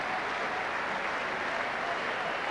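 A stadium crowd applauds the Australian rugby league team after the 1994 Kangaroo Tour third Test against Great Britain, a continuous distant roar of clapping and cheering.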